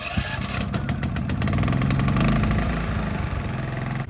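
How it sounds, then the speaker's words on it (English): A portable generator runs in a mobile detailing setup, giving a steady, close mechanical drone with a pulsing engine rhythm that swells slightly midway and holds throughout, no voices. "so generator is running."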